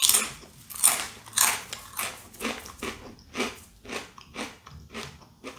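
Someone chews a crunchy curry-flavoured sweet-and-sour snack, producing a rhythmic series of close, crisp crunches roughly twice a second that gradually soften, with no speech.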